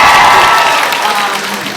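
Audience applause during a fan convention panel for a television series, a dense wash of clapping that starts loud and stays steady, with some crowd noise mixed in throughout.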